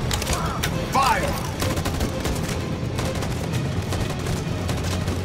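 Rapid gunfire from a firefight in the video game Detroit: Become Human, dense bursts of shots and booms running steadily throughout over a loud, busy game soundscape.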